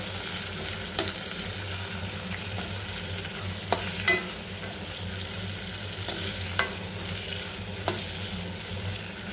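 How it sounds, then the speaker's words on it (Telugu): Tamarind and coriander stems fry in a pan with a steady low sizzle, punctuated by a few sharp clicks of a utensil stirring against the pan, close and alone with no voices. "చింతపండు యాడ్ చేస్తున్నా. ఇవన్నీ ఫ్రై చేసుకోవాలన్నమాట."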